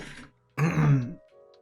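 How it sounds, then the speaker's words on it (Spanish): A person has a coughing fit: a couple of rough, throaty coughing bursts, close and fairly loud, with a short quiet gap between them and a softer trailing sound at the end. "No sé por qué me ha venido el ataque de tos ahora."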